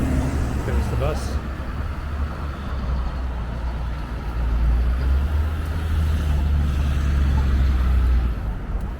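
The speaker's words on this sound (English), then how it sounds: "There's the bus." A city bus passes on a Boston street near the Rose Kennedy Greenway, its low engine rumble and road noise swelling and holding close by among general traffic, with a person talking over it.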